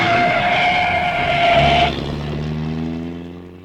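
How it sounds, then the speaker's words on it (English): A sports car passes far off in a narrated storybook scene, a sustained whining engine tone that drops in pitch partway through as it recedes into a lower steady drone. "far off in the distance, we could hear Cruella de Vil driving her sports car"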